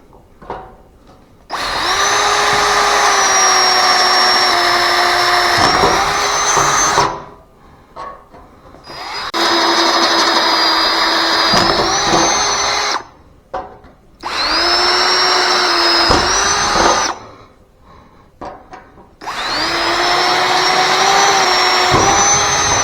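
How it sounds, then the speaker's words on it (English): A power drill whines in four long bursts separated by short pauses, loud and close, its pitch rising slightly as each run ends. "Let's drill the rest of them."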